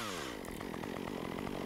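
A chainsaw cutting tree tops, its chain running quite tight, revs up from a low drone into a loud, steady, rasping whine, close and continuous with no voices.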